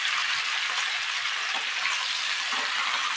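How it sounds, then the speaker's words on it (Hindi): Potatoes and cluster beans fry in a small amount of hot oil with a loud, steady, close sizzle that continues evenly throughout without talking. "और इसे हमें भूनना है। चलो फ्राई करेंगे हम।"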